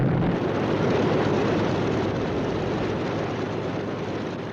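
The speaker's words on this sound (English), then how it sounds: "US dive bombers, approaching unseen at high altitude" Dive bomber aircraft engines approach at high altitude, a steady broadband drone and roar that holds loud and continuous throughout, slightly easing toward the end, with no voices.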